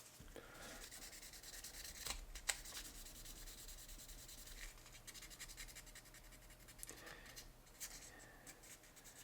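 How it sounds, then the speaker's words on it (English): A diecast Hot Wheels Custom Van A-100 body is sanded with 2000-grit sandpaper, giving quiet close scratchy rubbing strokes with a few sharper scrapes near the start and end. "So I'm going to do a little bit of sanding with some 2000."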